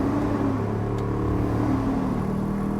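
A Mitsubishi 3000GT engine revs steadily at close range, a dense rumbling roar that holds its level throughout.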